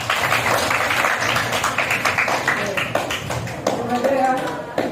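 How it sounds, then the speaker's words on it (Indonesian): Students in a classroom clap together in a short burst of applause, a dense patter of hand claps that tapers off, with a teacher's voice over it. "beri tepuk tangan untuk kalian semua"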